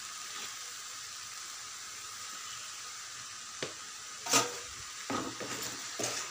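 Amaranth leaves with turmeric stirred in a pan, a soft steady sizzle with a few sharp scrapes and taps of a spoon against the pan toward the end.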